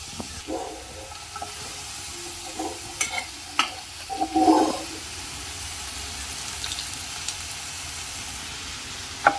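A spoon stirs pieces of elephant apple (chalta) in a pan while cooking sakra, giving soft intermittent scrapes and light sizzling close by, with no talking.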